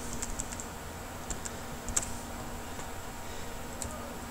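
Computer keyboard keys pressed while editing in Adobe Premiere Pro CS4, a few scattered light clicks at close range over a quiet room hum.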